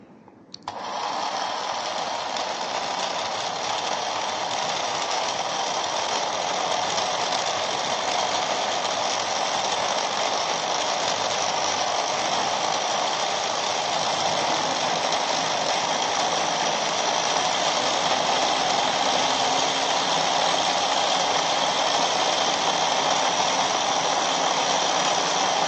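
A modified Hot Wheels Power Booster launcher motor pushed to high voltage, giving a steady, loud electric whine that starts abruptly and holds continuously for the whole stretch, with no talking.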